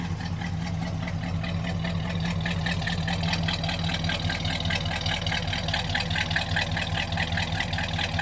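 A 1969 Pontiac LeMans idles steadily, heard from behind the car, its engine giving a smooth, even, rhythmic pulse with a deep low rumble and no talking over it.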